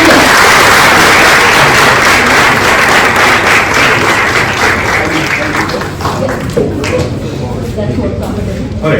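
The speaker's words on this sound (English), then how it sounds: "Very warm round of applause." Loud, dense applause from a business career event audience welcoming a speaker, steady and sustained throughout before thinning slightly near the end.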